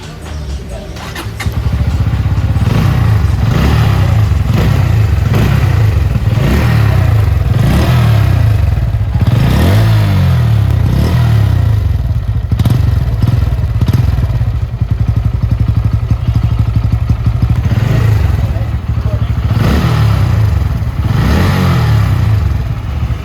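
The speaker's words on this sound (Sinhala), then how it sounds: "අපි ඊළඟට ලංකාවේ ජනප්‍රියම naked sport බයික් එකක් වෙන Pulsar NS200 අලුත්ම බයික්" A new Bajaj Pulsar NS200 BS6 naked sport motorcycle engine runs loud and close for over twenty seconds, revving up and down repeatedly with a throbbing idle between blips.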